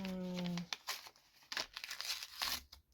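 Paper envelope crumpled and torn by hand, a series of crisp crinkles and rips after a short tonal hum at the start, close and quiet.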